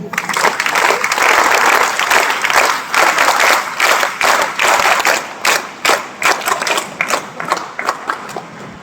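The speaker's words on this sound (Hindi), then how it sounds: "करतल ध्वनि करें 3 वाली।" Loud, dense applause from a crowd of students and teachers at a government higher secondary school's Independence Day assembly in Harda, Madhya Pradesh, swelling steadily and then breaking into choppier, rhythmic bursts of clapping.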